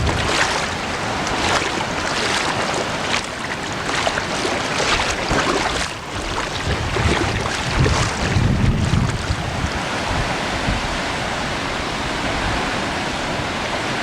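Strong south wind buffets across floodwater near sandbagged homes and docks, a continuous loud rushing roar with gusty surges and faint lapping water beneath, no voices.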